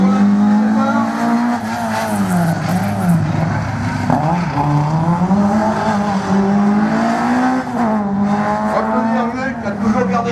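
A race car on a seaside slalom course at Agon-Coutainville, its engine revving and wavering in pitch as it launches and works through the gates, loud and continuous with a commentator's voice over it.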